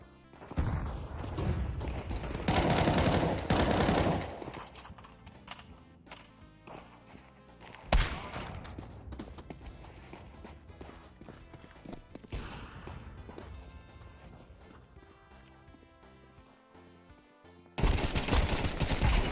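Gunfire and grenade blasts in a shooter video game, with loud bursts of shots and heavy booms in separate clusters, thinner scattered shots and thuds between them, and a dense final volley.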